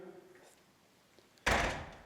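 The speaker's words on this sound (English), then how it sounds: "Thank you for making that door sound" A single sudden door bang or thud in an abandoned psychiatric hospital, loud and sharp after near silence, with a short decaying tail.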